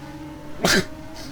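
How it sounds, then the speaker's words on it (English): A single short sneeze bursts out at moderate volume over a quiet background hum. "Again, nose issues. Might sneeze more."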